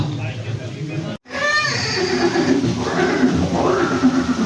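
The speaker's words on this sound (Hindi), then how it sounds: "ये दृश्य महाराणा प्रताप और सुविख्यात स्वामी भक्त घोड़े चेतक के अंतिम मिलन का है।" Horse neighing, the famed loyal war horse Chetak of Maharana Pratap in a dramatized scene, a rising whinny heard over narration and background music.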